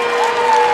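A college wrestling crowd at a Michigan Wolverines versus NC State Wolfpack dual meet breaks into loud, sustained applause, a dense wash of clapping filling the whole moment.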